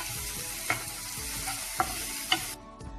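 Chopped tomatoes are stirred into hot, frying biryani masala for a beef puttu biryani, with a steady sizzle underneath. A few sharp scrapes of the spoon against the pan sound close by, and the sizzle drops away near the end.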